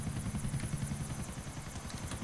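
Helicopter in the video game GTA 4, a steady rotor thump with rhythmic low beating and a whirring drone, fairly loud and continuous with no talking.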